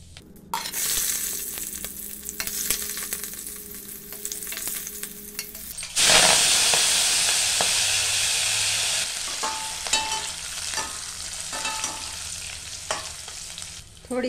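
Cumin seeds hit hot oil in a kadhai, first with quieter stirring and light frying, then a sudden loud, hissing sizzle that holds steady and slowly settles, close up with no talk.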